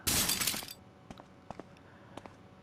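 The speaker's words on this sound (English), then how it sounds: "It like teases you, like the glass shatters a little bit by the window." Window glass shatters in Resident Evil Remake: a loud burst of breaking glass up front, then scattered fragments clinking and tinkling faintly afterward.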